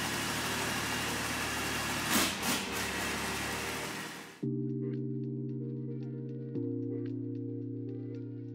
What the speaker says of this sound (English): Starting the truck up.